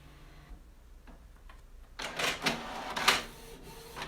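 An inkjet printer feeding Oracal printable adhesive vinyl, quiet at first with faint ticks, then louder mechanical whirring and clacking bursts from the print head moving back and forth.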